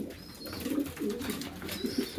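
Young racing pigeons cooing in a loft, several soft, rounded coos repeating in short bursts at close range over a low background murmur.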